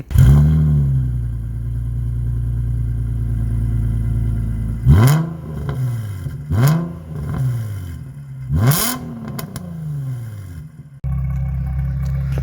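A Nissan 350Z engine with a replica aftermarket exhaust idles with a deep burble, then blips the throttle in several sharp revs that rise and fall, each ending in a crackle, close up.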